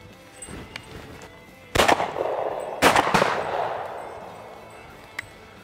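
A shotgun fired outdoors while hunting woodcock in Michigan: two loud, sharp reports about a second apart, each trailing off into a long echoing decay over quiet woodland background.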